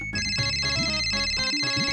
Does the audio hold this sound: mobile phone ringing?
yes